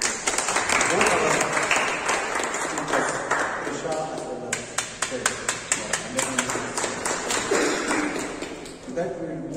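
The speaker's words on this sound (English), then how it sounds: "Please give a big round of applause." Audience at a meeting clapping, a moderate burst of many hands with some sharp individual claps standing out, mixed with voices talking.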